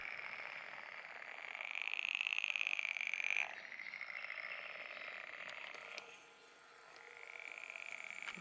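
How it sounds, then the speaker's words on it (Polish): A night chorus of frogs at a fishing lake, a steady trilling croak that swells and dips continuously for several seconds. "żab, koncertu żab."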